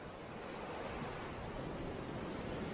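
Violent surf breaking on a coast, a steady wash of roaring waves with some wind, continuous and fairly distant, no voices.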